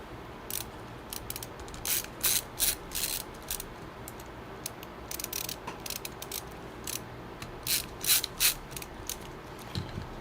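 Screws being driven back into a PC motherboard, heard as a steady run of short, close ratcheting clicks in rapid bursts over a constant background hiss, with no talking.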